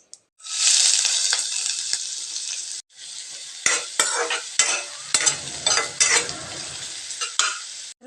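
Chopped onions tipped into hot oil with popping mustard seeds for a brinjal dish: a loud sudden sizzle, then close spoon stirring and scraping in uneven strokes over continued frying.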